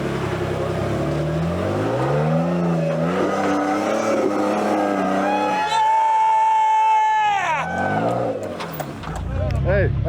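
A Jeep engine on the Easter Jeep Safari trail revs hard and strains while climbing a rock pile, rising and falling in pitch as throttle comes and goes, loud and close, with voices and a crowd around it.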